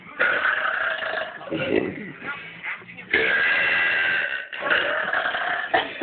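A person burps during a burping contest, long rasping croaky belches in several drawn-out bursts, close and loud, with brief gaps between them.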